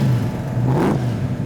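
Supercharged 1965 Ford Mustang Fastback V8, lowered on Shelby springs, revving close up: a steady low engine drone that climbs and swells in pitch midway, then settles back to a smooth idle hum, no voices.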